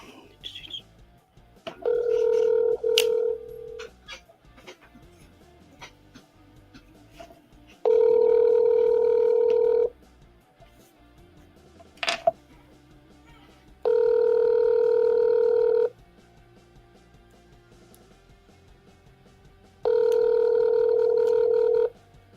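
An outgoing phone call rings back with four evenly spaced, steady two-second ringing tones, separated by quiet pauses with faint background clicks.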